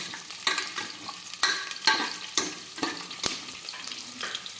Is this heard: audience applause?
no